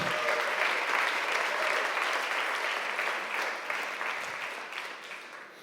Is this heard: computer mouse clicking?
no